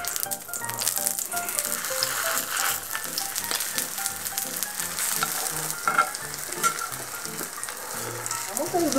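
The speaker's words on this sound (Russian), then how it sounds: "Блины я буду жарить на топленом масле." Small meat-filled blini frying in ghee in a pan, a steady close sizzle and crackle of hot fat with occasional light rattles throughout.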